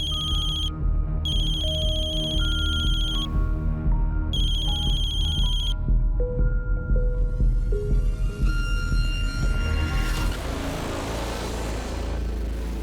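A mobile phone rings with an incoming call, a bright electronic ringtone repeating in bursts over a low rumble of background noise, then giving way to a busier wash of sound toward the end.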